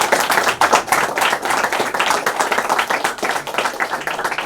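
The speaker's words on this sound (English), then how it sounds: "Guys, please give them a huge round of applause all of them." A college crowd at a song promotion event claps enthusiastically, with dense, loud, rapid handclaps throughout and some voices mixed in.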